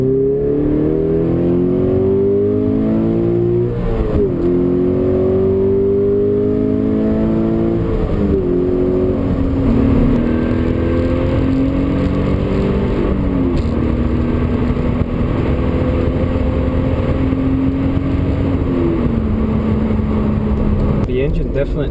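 A 2013 Toyota GT86 flat-four engine accelerates hard through the gears, its loud revving pitch climbing and dropping at each shift, with a voice talking over it at times.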